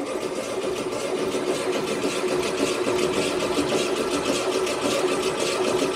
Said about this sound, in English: So we'll crank the engine over now